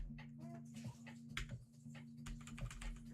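Quiet, close clicks of a computer keyboard come in irregular bursts, with a steady low electrical hum underneath.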